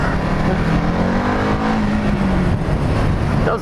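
EBR 1190RX motorcycle engine on a test ride, a loud steady drone with a rising tone under heavy wind rush, close and continuous.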